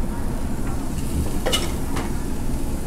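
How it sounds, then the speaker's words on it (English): Brisket and short rib meat sizzling on a grill at a hot pot and BBQ restaurant, a steady close hiss running throughout with a couple of brief sharper crackles. "let's get some of this meat on the grill then"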